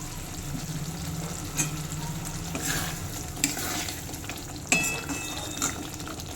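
A Bengali chingri malai curry, prawns in a creamy sauce finished with a sprinkle of ghee, simmers and sizzles softly while a spoon stirs it with a few scraping knocks. A faint watery sound runs underneath, and no one speaks.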